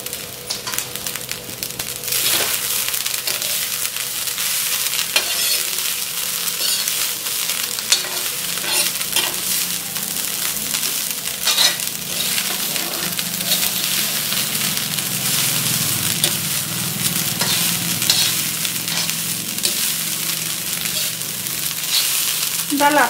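Jeera rice stir-fried in an iron kadhai, continuous loud sizzling with repeated scraping and stirring strokes of a spatula against the metal, close and steady throughout.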